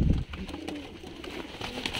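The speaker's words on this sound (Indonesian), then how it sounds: "Kayak apa merpati keter itu?" Keter pigeons cooing at close range, with soft throaty coos repeating over a low background murmur and no talking.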